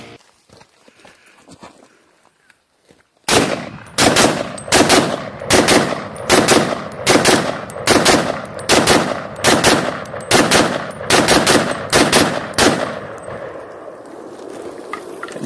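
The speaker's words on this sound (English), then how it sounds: "We're going to shoot the CZ Bren, try to get through this 30-round mag as quick as we can." A CZ Bren rifle empties a 30-round magazine in fast, evenly spaced, very loud shots outdoors, a steady string of sharp reports lasting about ten seconds after a quiet start.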